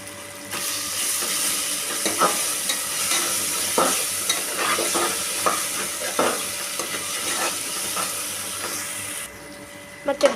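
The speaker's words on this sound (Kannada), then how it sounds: "ಮೆಂತ್ಯ ಸೊಪ್ಪು ಎಣ್ಣೆಯಲ್ಲಿ ಫ್ರೈ ಆಗಿದೆ ಫ್ರೆಂಡ್ಸ್." Fenugreek leaves with turmeric frying in oil, a steady close sizzle with scattered stirring scrapes and clinks throughout, ending abruptly near the close.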